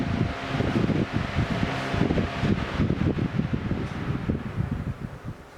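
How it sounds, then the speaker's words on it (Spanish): An S&P Turbo 350 electric fan runs indoors in a room, giving a close, steady whirring with a low hum and fluttering air rush throughout. "Mueve un gran caudal de aire porque ahora mismo aquí en la habitación, sin estar enfrente del ventilador, se nota el recirculamiento continuo del aire."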